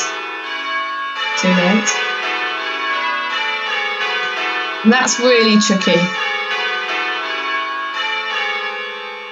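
Simulated church bells ringing rounds, a steady series of bright overlapping strikes that runs through the whole stretch, with someone talking over it in two short bursts.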